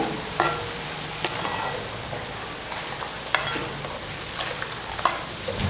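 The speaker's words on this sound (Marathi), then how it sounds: "हे सुद्धा यांना चांगलंसं तळलेलं आहे बघू शकताय तर आता आपण हे सुद्धा आपल्याला काढून घ्यायचं आहे" Boondi frying in hot oil for boondi laddu, with a continuous close, loud sizzle and light stirring and scraping as the fried drops are scooped out.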